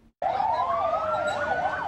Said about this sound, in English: Sirens sounded shortly after a bomb exploded in Lahore, Pakistan